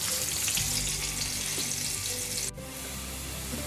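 Onions fry lightly in a pan for paneer masala, giving a continuous close sizzle that dips briefly partway through and then carries on slightly softer.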